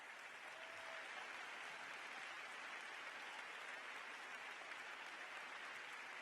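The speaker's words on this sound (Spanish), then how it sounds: "menudos aplausos" A theatre audience at a medal ceremony in Badajoz gives sustained, dense applause, a steady wash of many hands clapping that sounds distant and soft with no pause.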